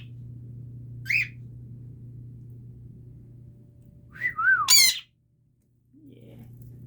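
A sun conure and cockatiels whistle in short bright bursts, one brief call early and a louder cluster of rising whistles later, over a steady background hum.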